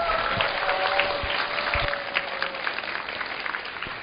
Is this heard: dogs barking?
no